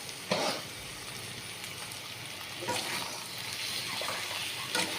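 Potato fry is stirred in a pan with salt, a soft sizzle underneath with a few brief scraping strokes of the spoon, fairly quiet and close.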